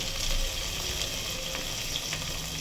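Rice goes into a sizzling pan of fried spices for bagara rice, giving a steady, close frying hiss with faint rustling and scraping.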